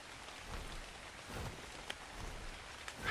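Rain falls in ARK: Survival Ascended on the Ragnarok map, a soft, steady hiss with a few isolated drip ticks, quiet and with no talking.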